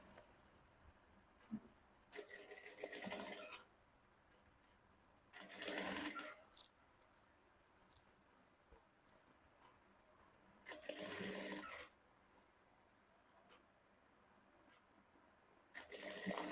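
A sewing machine stitching the waistband of Ankara fabric shorts with box pleats, running in four separate close bursts of rapid, buzzing stitching, each lasting a second or two, with quiet pauses between them.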